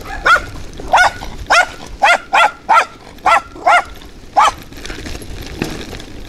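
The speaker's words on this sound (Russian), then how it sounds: "Гавка." A dog barks about nine times in an uneven series of sharp, mid-distance barks somewhere in a foggy small town, heard from a bicycle ride with a low background rumble between them.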